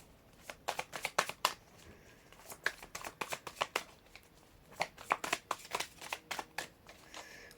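Tarot cards being shuffled by hand, close and crisp, in quick bursts of riffling flutters and soft slaps with brief pauses between.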